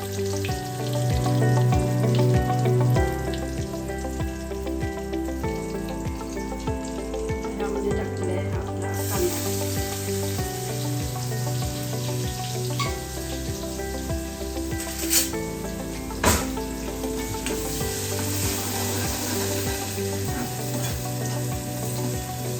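Garlic and curry leaves fry in hot oil as a tempering for a pomfret curry, giving a steady, fairly loud sizzle that runs throughout under continuous background music, with a few brief clatters midway.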